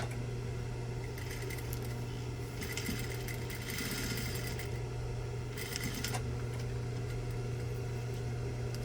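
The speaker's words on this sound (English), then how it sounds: "now I just fold it up, and that's going to be my welt pocket. Okay, and I'm going to sew down on the edge" A sewing machine stitches down the folded edge of a fake welt pocket, a steady close mechanical hum with bursts of faster needle clatter over nearly nine seconds, no talking.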